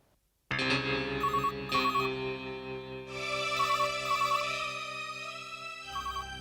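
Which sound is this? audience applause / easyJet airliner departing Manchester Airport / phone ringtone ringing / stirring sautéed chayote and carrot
phone ringtone ringing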